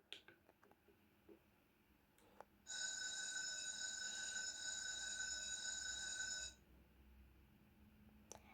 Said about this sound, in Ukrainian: дзвінок на перерву був